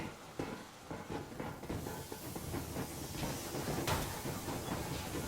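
A steam train races along at full speed in Metro Exodus, with a steady hissing roar and rhythmic clickety-clack of wheels on rails, moderately quiet and continuous.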